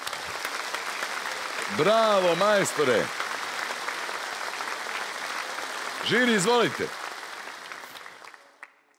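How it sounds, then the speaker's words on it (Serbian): A television studio audience applauds a guitarist walking onto a show's stage, a broad steady wash of clapping that fades out at the end, with a voice speaking over it twice. "majstore, molim, jedan aplauz"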